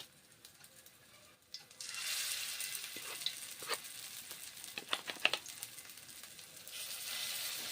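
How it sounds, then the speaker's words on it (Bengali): Urad dal fritters (bora) deep-fry in hot oil, a hissing sizzle that swells in after a quiet start and carries on with scattered crackles and pops, close and without talk. "এইভাবে বড়াগুলো এবারে আমি ভেজে নিচ্ছি"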